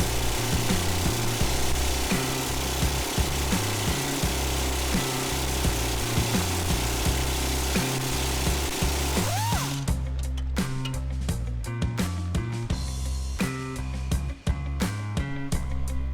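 A power tool loosening a wheel bearing bolt on a 2017 Subaru Crosstrek, a continuous loud grinding hammering rattle that shifts into sharper stuttering impacts partway through, close up with no talking.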